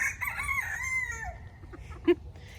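A farm rooster crows once, loud and near, the call trailing off, followed by a brief cluck in a quiet yard.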